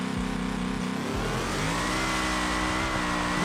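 A four-wheel-drive car with unlocked diffs and an engine swap in a racing game, bouncing off the 2-step rev limiter then launching in second gear, its engine note climbing loud and steady as it accelerates.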